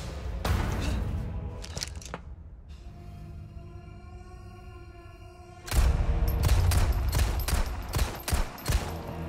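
Rapid gunfire bursts from the Resident Evil 4 remake video game, fired at the enemy Sadler; a dense volley opens, pauses to a quieter tonal stretch, then heavy repeated shots return loud and close near the end.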